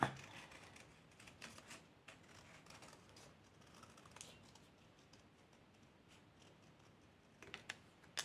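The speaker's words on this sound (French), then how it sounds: "je vais quand même découper vite fait là" Scissors snip through paper in short, crisp cuts while a scrapbook cover for an advent calendar stamp album is trimmed, with a few sharper snips near the end; no talking.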